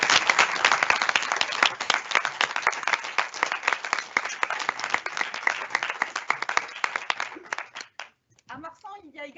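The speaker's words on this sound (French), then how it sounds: "je vous demande de les applaudir" A school audience at Collège Marsan's 2021 exhibition claps for the training staff, dense sustained applause of many hands that thins toward the end into a few scattered claps as a voice begins.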